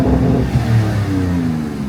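A 2026 Dodge Charger drag build on a stock exhaust revs loudly and close by, its engine note rising and swelling in a sustained pull over a deep rumble.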